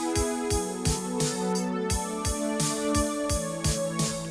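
JP8 Strings1 synthesizer patch playing sustained string chords with a steady rhythmic pulse, bright and full, alone with no voices.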